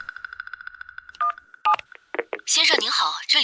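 A string of rapid, evenly spaced telephone keypad tones rings out as someone dials a bank, followed by irregular clicks, and then a voice starts talking loudly over the end.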